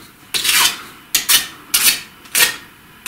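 Mortar is scraped off along the edge of a stone while building a storage stove: four rough, rasping scraping strokes in a steady rhythm, close and fairly loud, with no talk.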